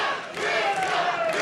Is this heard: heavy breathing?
no